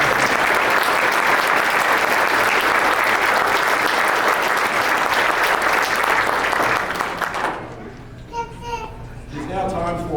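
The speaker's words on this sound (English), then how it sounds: "offering a round of applause for Norm Epley and the brass band of Louisville" An outdoor crowd at a July 4 naturalization ceremony gives loud, dense applause for about seven seconds, then it drops away, leaving scattered voices and the sounds of children.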